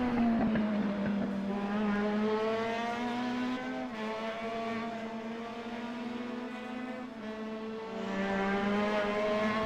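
V8 Supercar engine at Bathurst during qualifying, a loud continuous roar with pitch rising and falling through gear changes and corners, alone without talk.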